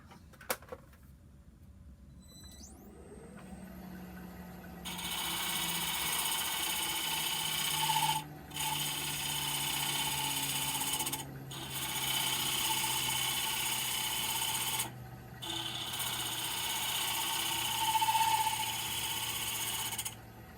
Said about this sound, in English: Very light cuts, and the flute is almost dead vertical, so I'm cutting just with that front edge.